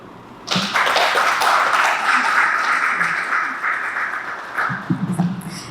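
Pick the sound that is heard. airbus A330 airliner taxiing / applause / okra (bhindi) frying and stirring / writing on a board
applause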